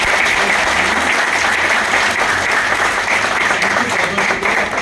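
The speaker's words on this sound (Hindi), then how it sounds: "एक बार ताली बजा दीजिए हमारे" An audience at a meeting claps steadily and loudly, a dense continuous applause lasting a few seconds.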